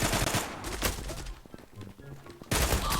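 Rapid gunfire in the online shooter Zula, with dense bursts of automatic shots, loud and close, thinning briefly in the middle before another heavy burst at the end.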